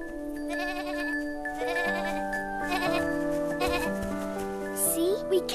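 Goats on a mountain bleat amid a layered musical score, high, wavering animal cries rising over sustained tones, near the end with a cartoon-like quality, no clear talking.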